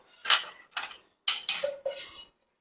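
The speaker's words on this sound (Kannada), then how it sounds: "ಒಲೆ ಹಚ್ಕೊಂಡ್ಮೇಲೆ ಈ ರೀತಿ ಪ್ಯಾನ್ ಇಡೋಣ" A deep pan is set down on a stove, several distinct metallic clanks and scrapes in quick succession, close and clear with brief silences between.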